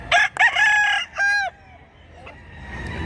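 A rooster, a two-year-old gamecock offered for sale at a market in Mantalungon, Cebu, crows loudly and close by in one full cock-a-doodle-doo, followed by faint background murmur.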